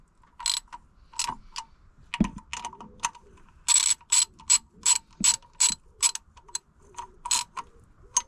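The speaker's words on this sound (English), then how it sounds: "So I'm just going to tighten these back up so that it flushes up the pulley." A hand ratchet tightens bolts on a pulley of a Nissan 300ZX twin turbo, giving close, crisp clicking bursts in quick regular runs with a few pauses and clunks, with no talking.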